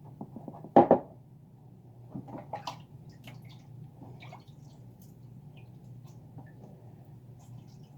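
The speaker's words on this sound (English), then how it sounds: "Do not hesitate to actually really wring it to get the maximum of water out of there." Water wrung from a cloth while making dried beef, a brief close burst of splashing followed by scattered soft drips and light handling noise, with no talking.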